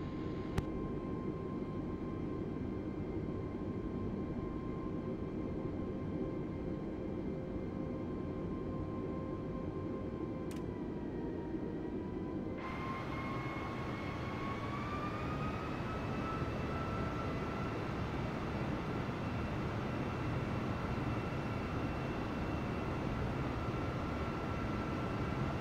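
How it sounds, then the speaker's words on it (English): Airbus A320 airliner taxiing at an airport, a steady loud engine whine and broadband rumble throughout, the turbine tone shifting upward partway through as thrust changes. "Airbus 320, turn next taxiway."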